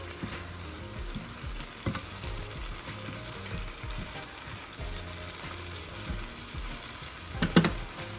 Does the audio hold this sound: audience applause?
no